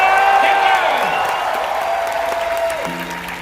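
Studio audience applause with some cheering at a live improv performance for a Knott's Scary Farm 2019 announcement event, loud and sustained clapping that slowly tapers, with a voice briefly heard over it.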